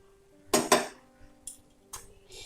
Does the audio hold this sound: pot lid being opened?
yes